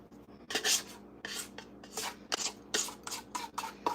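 A bowl scraper drags alphabet cake batter around a bowl and into a pan with repeated short, soft, close rasping strokes in an uneven rhythm, no voices.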